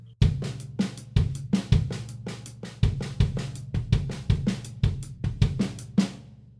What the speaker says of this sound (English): I'm going to play them in a hi-hat and snare drum position.